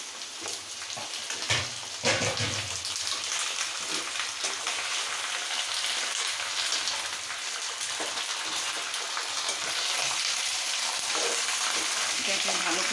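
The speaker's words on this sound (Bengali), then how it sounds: "এটাকে ভালো করে পেঁয়াজের মধ্যে কষিয়ে নেব।" Chicken frying with onions and chilies in a pan for a Bengali chicken kosha, a loud steady sizzle with occasional stirring clatter throughout.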